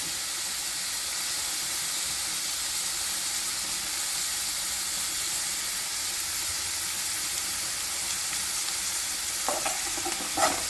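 Continuous loud sizzling as mutton liver and curry leaves fry in a pan, with scraping stirs growing more frequent toward the end.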